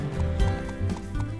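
Horse in the video game Secret of the Magic Crystal, with soft clip-clop hoof beats and a faint whinny repeating at a moderate pace over steady game music.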